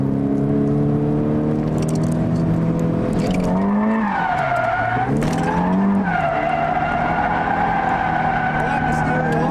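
A car drifting in second gear, its engine droning steadily while the tyres skid and squeal with a pitch that dips and rises midway, loud and continuous throughout.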